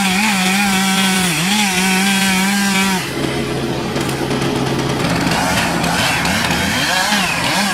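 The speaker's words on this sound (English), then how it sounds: "It's the world's first chainsaw with electronic fuel injection, which means more power and less fuel consumption." Stihl 500i fuel-injected chainsaw running loudly and close, its engine whining steadily with revving pitch changes throughout.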